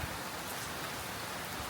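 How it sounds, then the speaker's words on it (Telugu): Steady rain falls outdoors during a long downpour, an even, dense patter with no breaks and no voices. "ఫైనల్లీ మళ్ళీ వాన పడుతుంది"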